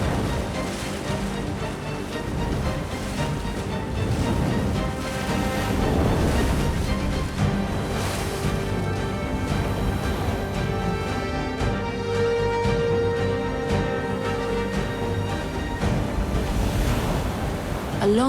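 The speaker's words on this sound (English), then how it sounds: "A winter storm whips the sea into a frenzy." Stormy North Pacific sea in a winter gale: a loud, continuous roar of crashing waves and gusting wind, with no pauses throughout.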